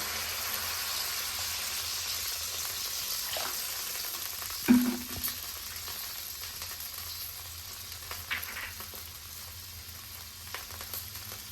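Water bubbles and hisses in a pan while Katla fish tok cooks, a steady, moderately quiet simmering sizzle with one brief clunk of a utensil partway through, no speech.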